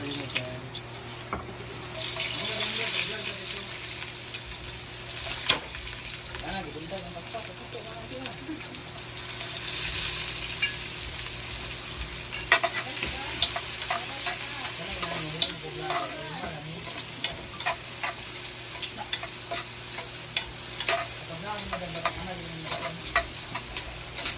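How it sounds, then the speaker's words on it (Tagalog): Tininlag soup cooking in a pot, with steady broadband sizzling and frying plus intermittent scraping and stirring, running continuously at moderate level, with faint background voices. "nag-start na si Palomang magluto ng kanyang tininglag"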